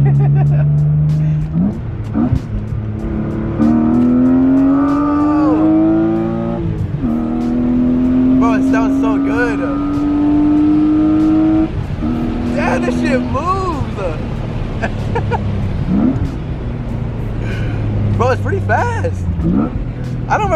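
A BMW E36 M3 accelerates hard, its engine note climbing steadily through the gears with short dips at each shift, loud and close throughout.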